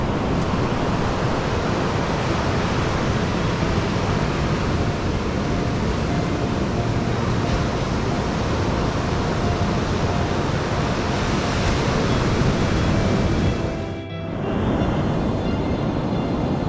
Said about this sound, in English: Pretty impressive waves out there.